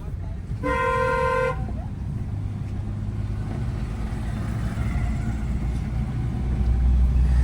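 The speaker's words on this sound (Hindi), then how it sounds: "लॉन्ग हॉर्न प्रेस करके" A long car horn blast sounds in Indian city traffic, a steady tone of about a second near the start, under a constant rumble of engines and road noise, with people talking in the car.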